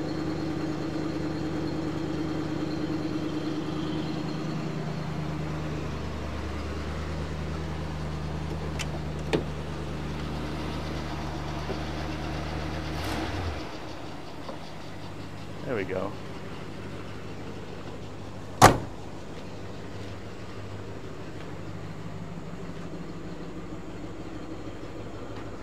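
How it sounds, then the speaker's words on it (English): A 1973 Mercury Marquis Brougham with a 460 big-block V8 idles quietly and steadily, a soft low hum that shifts partway through, with a few brief clicks and one sharp knock near the end. "Nothing like the sound of a big block in the afternoon."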